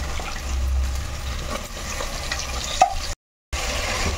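Onions and chicken fry in a pan for chicken curry, a steady soft sizzle with occasional stirring scrapes and one small clink, close and moderate in level.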